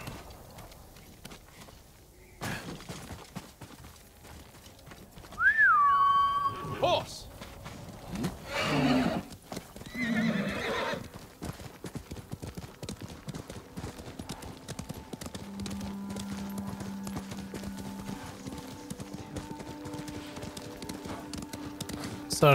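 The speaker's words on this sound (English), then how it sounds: "Horse!" A horse in the video game Ghost of Tsushima whinnies once and then gallops with steady rhythmic hoofbeats, moderately loud, while someone speaks briefly over the game sounds.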